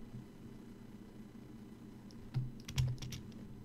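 A computer keyboard clacks in a few quick close taps near the end, after a quiet stretch with a faint low hum from the room and computer.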